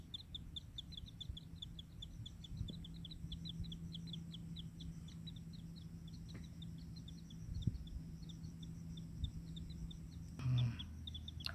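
Two collared kingfisher chicks calling in the open, a steady run of thin, rapid, high cheeping notes repeated throughout, faint and distant over a low rumbling background hum, with a brief bump of handling noise near the end.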